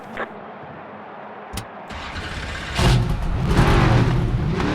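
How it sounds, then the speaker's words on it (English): NASCAR race car engines fire up on the grid at Charlotte in the NASCAR 25 video game, starting with a few sharp cranks and then swelling into a loud, rough, rumbling idle and revving. "Drivers, start your engines!"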